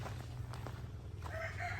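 Native chickens cluck in short calls at their coop, close and moderately loud over a steady low hum of background noise.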